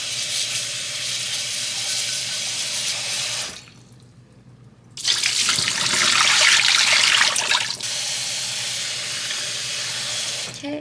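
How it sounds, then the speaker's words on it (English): Tap water runs steadily into a kitchen sink as food is rinsed under it, pausing briefly, then gushing louder before settling back to a constant flow. "I'm going to rinse this in some water first while I get the sauce ready."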